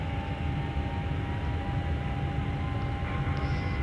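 Steady, loud engine roar of an airplane accelerating down the runway for takeoff in Microsoft Flight Simulator X, a continuous broadband rumble with no voices.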